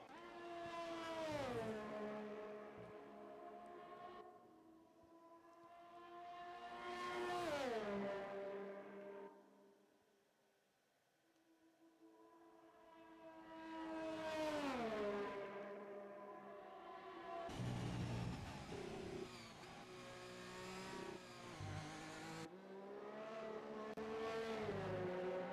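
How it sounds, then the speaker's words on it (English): Race cars in a Belgium Grand Prix racing video game leave the pit lane, engines rising and falling in pitch as several cars accelerate and pass in turn, loud and close, with a harsher sustained roar toward the end. "cars now come out of the pit lane for their last"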